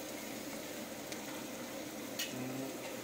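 Ginger garlic paste fries in a pan with a faint, steady sizzle, and a spoon stirs it with a brief scrape partway through.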